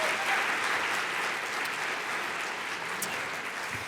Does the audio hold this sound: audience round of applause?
yes